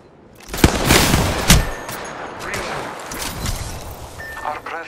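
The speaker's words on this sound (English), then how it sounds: "Getting shot at." Gunfire in the video game Apex Legends: bursts of rapid automatic shots and sharp single cracks crowd together over a few seconds, loud and close, with a game voice line mixed in.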